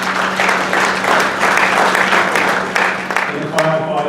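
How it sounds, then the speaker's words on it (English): An audience at a golf course board meeting applauds itself. The clapping is loud, thick and continuous, with a low steady hum underneath, and tapers slightly near the end. "give yourself a round of applause because this is a great meeting"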